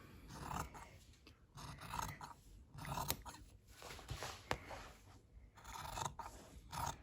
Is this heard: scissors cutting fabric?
yes